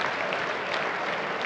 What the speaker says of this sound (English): giving a round of applause to that double